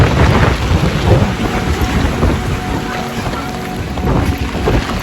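Heavy rain pours steadily and loudly in Saputara, a dense hiss close by with water splashing, and low rumbles throughout.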